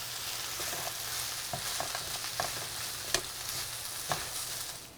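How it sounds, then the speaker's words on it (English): Shepherd's pie filling stirred in a pan, a soft sizzle under a run of light scrapes and taps from the spoon, fairly quiet and close. "I'm gonna give that a stir"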